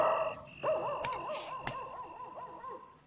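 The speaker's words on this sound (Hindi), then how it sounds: "सुना है कुत्ता पागल हो गया है?" A dog in a 1997 Hindi film scene gives a string of whining, yelping barks, wavering and repeated, moderately close over a faint background with a couple of sharp knocks.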